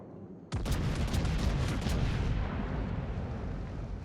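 A battleship salvo of armor-piercing shells in World of Warships, the Iwami firing: one sudden, loud, booming blast followed by a long rumbling roar that slowly fades over several seconds.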